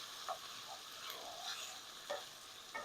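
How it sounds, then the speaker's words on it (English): Tomatoes cook in a pan with a soft, fairly quiet sizzle and occasional light stirring scrapes, close by, ending in a small clink. "You want to release the tomato, just kind of stir them in there."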